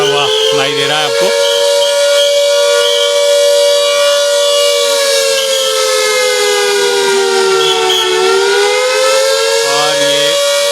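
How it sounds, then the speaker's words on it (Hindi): A civil defense siren wails loudly and steadily during a mock drill in Shimla, its tone rising and falling slightly as it sustains for the whole stretch with no talk over it. "4 बजे जो मॉक ड्रिल होनी थी उसका ये सायरन यहाँ पर बजता हुआ सुनाई दे रहा है आपको"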